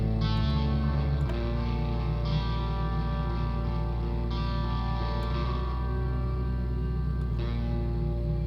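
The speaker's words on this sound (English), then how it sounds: "I got my big fat sub bass sound that I was looking for." A deep, heavy synth sub bass drones continuously, with brighter synth layers shifting on top in slow, repeating phrases.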